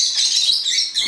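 Several pet birds chirp and tweet together in a kitchen, a dense, continuous flurry of high, bright calls lasting throughout, close and fairly loud.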